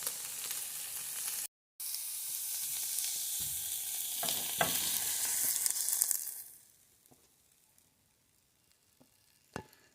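Chicken pieces sizzle loudly and are stirred through alfredo sauce in a pan for about six seconds, then the frying fades to a quiet simmer with a few faint scrapes and clicks.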